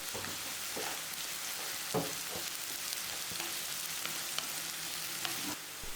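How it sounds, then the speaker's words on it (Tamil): Sliced large onion sautés in hot oil for a masala chicken dish, making a steady close sizzle with intermittent stirring scrapes and taps throughout. "இதில் நம்ம ஒரு பெரிய வெங்காயம் கட் பண்ணி இது கூட சேர்த்துட்டு நல்லா வதக்கிக்கோங்க."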